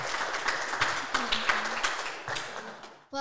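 Studio audience applauding on an Indonesian televised preaching talent contest, a dense steady patter of clapping that holds for about three seconds before cutting off abruptly at the end.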